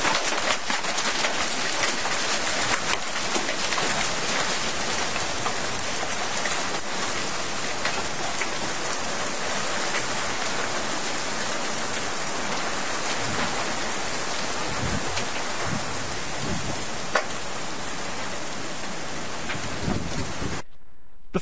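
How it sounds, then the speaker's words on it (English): Heavy rain and large hail pour down during an EF4 tornado from a supercell thunderstorm, a loud, dense, unbroken roar with scattered sharper impacts throughout, close and steady until it cuts off at the end. "You can see and hear the large hail starting to fall as the tornado continues."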